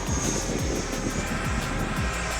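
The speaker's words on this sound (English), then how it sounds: "the Freewing MiG-29 Fulcrum twin 80mm EDF jet, and how it stacks up a year later" A Freewing MiG-29 Fulcrum model jet with twin 80mm electric ducted fans roars past in a loud, continuous high-pitched whine with a steady rushing body, heard alone.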